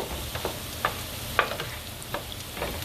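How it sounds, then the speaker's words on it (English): Home fries being stirred with peppers and onions in a pan, a faint sizzle beneath a few soft, irregular scrapes and taps of the spoon, close and quiet. "Now make sure I mix the pepper and onions in it real good."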